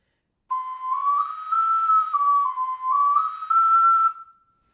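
A tenor ocarina plays a few high sustained notes, thin, breathy, weak and airy, slightly wavering and flat in pitch, alone and fairly close.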